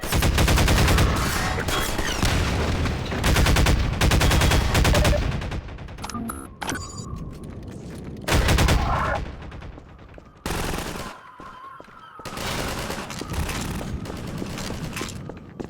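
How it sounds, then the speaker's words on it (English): Rapid gunfire in the virtual reality game Half-Life Alyx, loud bursts of shots with brief gaps and mechanical reloading clicks between volleys, a voice faintly present underneath. "The guns in Half-Life Alyx"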